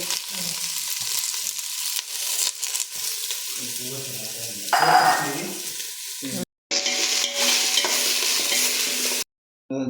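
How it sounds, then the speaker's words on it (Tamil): Boiled vegetables sizzle and fry in ghee in a pan while stirred, a steady crackling hiss with scraping movements and two brief cutoffs. "மறுபடியும் ஒரு ஸ்பூன் நெய்யை போட்டு அந்த வேக வச்ச காயெல்லாம் தாளிக்கணும்"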